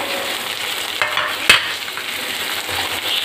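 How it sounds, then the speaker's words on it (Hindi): Beans and peas drop into a frying pan for paneer pulao, a moderate sizzle punctuated by a sharp clatter midway, then continued hissing as they cook; no voices. "हम यहाँ पे बीन्स डाल रहे हैं और इसी के साथ हम यहाँ पे मटर डाल रहे हैं।"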